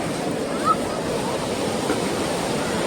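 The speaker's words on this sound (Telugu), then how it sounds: "Natural spring hot water." Natural hot spring water flows at a temple, making a steady rushing and splashing that continues without a break from start to finish.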